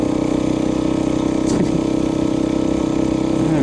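A homemade chopper powered by a Briggs 5HP small engine runs while being ridden, its steady, buzzing drone continuous and close throughout, with a brief scrape or rattle midway.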